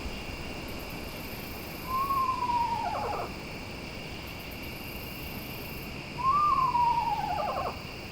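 Two descending whinnying screech owl calls a few seconds apart, moderately near, from about 12 to 15 feet up, over a constant background of crickets and insects at night.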